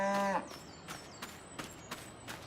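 Highland cattle in Farming Simulator 25 give a short low moo at the start, followed by a few soft hoof or shuffle thumps and faint high tones, with quiet ambience in between.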